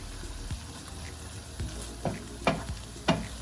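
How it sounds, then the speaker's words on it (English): Ground beef for lasagna sizzles steadily in an oily pan, with several distinct scraping knocks as a utensil chops and breaks up the meat, no talking over the frying. "You just want to keep breaking it up to make sure it cooks really good because you don't want it to be pink."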